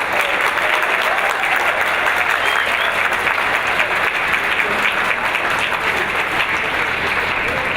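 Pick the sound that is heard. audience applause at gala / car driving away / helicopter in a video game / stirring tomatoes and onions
audience applause at gala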